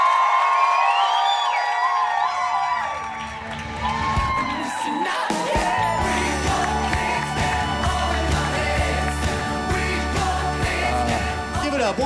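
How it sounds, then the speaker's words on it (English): A live podcast audience erupts in cheering, whoops and shouts as a guest is welcomed on stage, loud and sustained, with music playing underneath. "give a massive round of applause for none other than your hometown hero, Dr. Gabor Maté"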